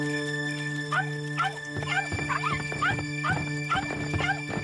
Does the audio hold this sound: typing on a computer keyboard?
no